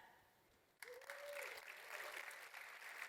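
Audience applause for Team Prevent at a Microsoft Teams troubleshooting tech session, a crowd breaking into clapping and cheers after a quiet moment, with a whoop rising early and clapping sustained to the end.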